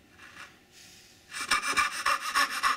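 A hand fret saw cuts through pine wood in a close series of quick, rhythmic rasping strokes, starting after a quiet pause and continuing steadily.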